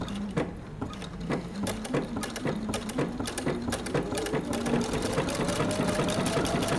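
A sewing machine runs steadily along the edge of a garment neckline seam, its rapid needle strokes close and continuous throughout.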